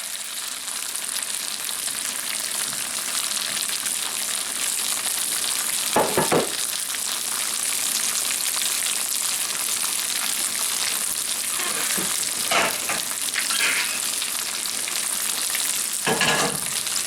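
Leftover pierogies fry in a pan with a steady, loud hiss of oil, broken by a few brief scraping stirs near the middle and end.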